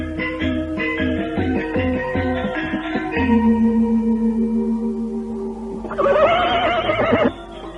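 A horse whinnies loudly and close near the end, a rising, wavering neigh standing out over a dense bed of gamelan-like tonal music and ambience in an Indonesian historical drama scene.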